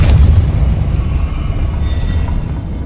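A Depulso spell from Hogwarts Legacy lands as a heavy booming blast. A low rumble carries it, loud at the start and then sustained and fading slightly.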